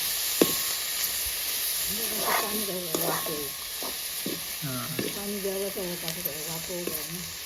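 Drumstick tree flowers sizzle steadily in a pan while a spoon stirs them; faint voices and clinks come through in the background.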